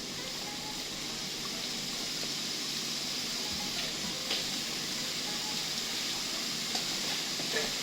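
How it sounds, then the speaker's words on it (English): Vegetables stir frying in a pan for Swahili biriani, giving a soft, steady sizzle and hiss at low level with occasional faint clinks, and no speech. "Just stir fry."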